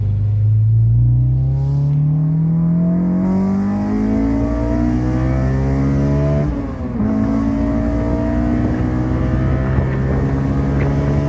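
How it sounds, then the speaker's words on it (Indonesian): A Honda S2000 engine revs hard past 5000 RPM, its loud, close exhaust note climbing steadily in pitch. It dips for a moment midway, then surges on with a raspy, rising wail, and no one speaks. "tekan gasnya sampai melebihi 5000, dan lu akan merasakan seberapa hidupnya mesin ini"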